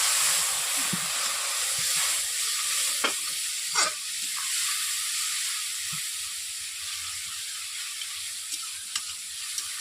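A splash of water hits a hot pan of bhindi masala with turmeric and chilli powder, setting off a loud, sustained sizzling hiss, broken by a few sharp scrapes and spatters.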